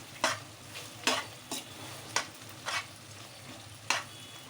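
A spoon stirs chicken gravy curry with fresh coriander in a sizzling pan, giving about six distinct scraping strokes at an uneven rhythm over a constant low frying hiss, close up and with no talking.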